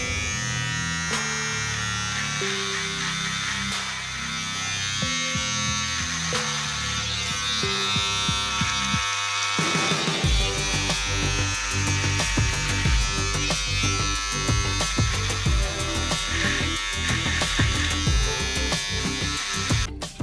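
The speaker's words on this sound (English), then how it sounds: "I'm just gonna shave the sides and the neck" An electric razor buzzes steadily while shaving the sides and neck in a traditional barber-style shave at home, its close, continuous hum shifting in pitch as it presses against skin and stubble, with a brief pause midway.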